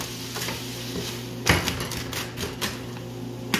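A Neapolitan margherita pizza is cut into six slices, sharp close clacks and crunching cuts, one strong hit near the middle and lighter ones after, over a steady low background hum.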